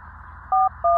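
Two loud, clear dual-tone keypad beeps from a telephone being dialed, each lasting about a sixth of a second, over a low steady hum with no talking.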